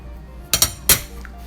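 A spoon clinks twice against a bowl and then once more while scooping purple yam ice cream, short bright metallic taps close by in an otherwise quiet room.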